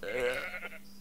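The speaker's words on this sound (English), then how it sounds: "Look at those poor sheep." Sheep in Minecraft give a drawn-out, wavering bleat, fairly close and clear, which trails off into quiet game ambience.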